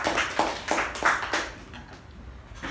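Meeting audience clapping for a speaker at a Toastmasters club meeting, a handful of distinct claps in the first second and a half that quickly thin out and fade to quiet room tone.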